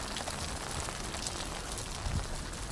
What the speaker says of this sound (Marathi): कारण की पाऊस इतका जोर आहे